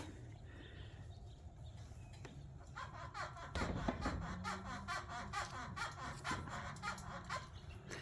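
Repeated high, squeaky bleats from a goat come in short rhythmic bursts against steady background noise, growing louder partway through.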